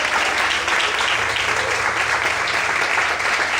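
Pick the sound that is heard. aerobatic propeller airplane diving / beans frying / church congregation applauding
church congregation applauding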